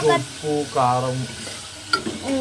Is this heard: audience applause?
no